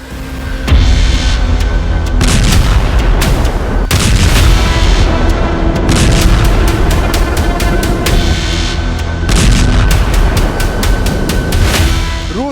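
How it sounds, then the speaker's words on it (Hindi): Russian missile strikes and artillery fire in Ukraine come as a dense barrage of loud, sharp blasts and booms, closely packed and continuous with repeated crack-like bursts throughout. "रौंद दिया यूक्रेन रूस की मिसाइल बारिश"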